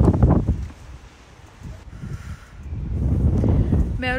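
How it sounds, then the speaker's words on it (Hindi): Strong, cold outdoor wind buffeting the microphone in gusty rumbling waves, easing briefly mid-clip before building again, with a short voice at the start. "बहुत बहुत ज़्यादा ठंडी और तेज़ हवा चल रही है, ऐसा लग रहा है तूफान आ गया है"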